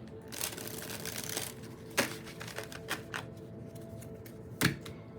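Tarot cards are shuffled continuously in the hands during a spiritual reading, a dense papery riffle and slide with a few sharper snaps, close and steady with no talking.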